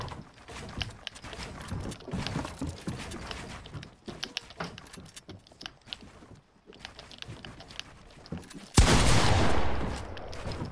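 Shotgun blasts go off in a video game, with scattered sharp shots and clattering action, then a sudden loud, dense burst of fire near the end.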